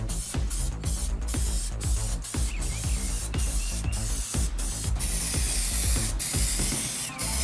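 A spray can of 2K urethane clear coat hisses steadily as it's applied to a car bumper, and a rattling, clicking rhythm runs through the sustained spray noise.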